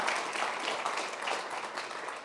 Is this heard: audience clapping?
yes